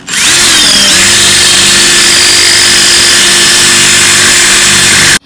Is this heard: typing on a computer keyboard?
no